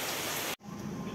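Heavy rain falls during a flood-prone downpour in Terengganu, a dense, even hiss interrupted by a brief cut before the steady rainfall resumes.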